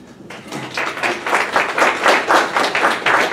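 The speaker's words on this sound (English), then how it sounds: "I can't remember last time I had somebody applaud for me" An audience of a small gathering applauds a speaker on actors' websites, dense clapping from a modest group building up after a brief pause and holding steady, fairly close and loud with no talk.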